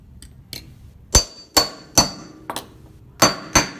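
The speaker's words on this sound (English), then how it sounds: "I'm going to hammer using a claw hammer" A claw hammer strikes a metal dome form while shaping a cuff bracelet, about eight sharp ringing blows at an uneven rhythm, close and loud with no talking.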